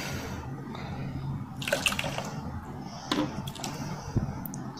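Blended cantaloupe juice is strained into a glass that had held water, giving soft liquid pouring and dripping with a few brief clinks and splashes, close and fairly quiet.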